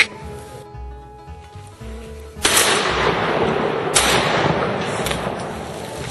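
Gunfire from a duck hunt on a river with thousands of geese and ducks around, starting as a sudden loud blast partway through and continuing as a dense, noisy barrage. A second sharp burst follows near the end.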